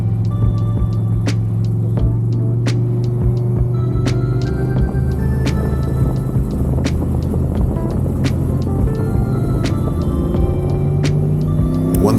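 An LS1 V8-swapped Mazda FD RX-7 is driven hard on a track at a Powercruise event. The engine roar is loud and continuous, with its pitch climbing steadily as the car accelerates. No one speaks.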